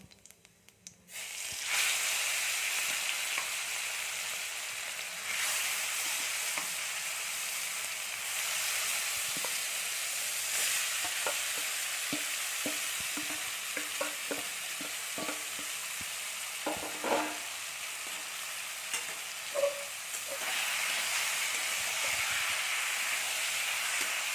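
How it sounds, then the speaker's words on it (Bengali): Marinated small fish fry in hot oil as part of a fish curry, with a continuous loud hiss and sizzle and intermittent stirring clatter, and no talking. "এবার আমরা এই মেখে রাখা মাছটা এর মধ্যে দিয়ে দেবো"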